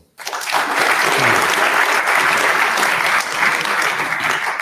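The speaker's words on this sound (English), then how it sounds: "A big round of applause for Paul." A lecture-series audience breaks into a round of applause for the chairman, loud, dense clapping from many hands that starts abruptly after a moment of quiet and stays full and steady.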